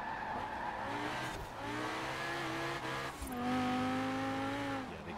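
A sports car engine in Forza Horizon 4 shifts down to second gear, the revs dropping then surging with a harmonic whine, close and loud, with a brief tire screech partway through.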